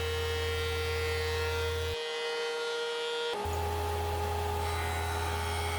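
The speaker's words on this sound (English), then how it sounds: "I'm going to start by flattening one face of my stock on the jointer." A jointer flattening one face of wood stock for a cutting board runs with a steady loud motor hum and whine, a brief pause near two seconds, then continuous machine drone resumes with no talk.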